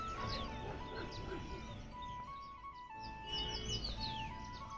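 Sparrows chirp near Bhairavnath temple in Ukhimath village, with many quick overlapping tweets over a hum of steady background tones and outdoor noise.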